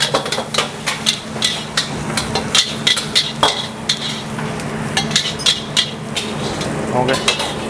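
Stir-frying basil fried rice (nasi goreng kemangi) at a busy street stall: a steady sizzle in the pan, broken by rhythmic clanks and scrapes of the spatula against the wok, close and lively.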